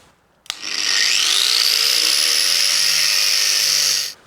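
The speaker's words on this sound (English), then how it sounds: "we're going to be cutting that with the grinder because, well, there's steel in it" Angle grinder slicing through a steel-reinforced hydraulic hose, spinning up sharply and holding one loud, steady high whine for about four seconds close by, then cutting off, with no talking.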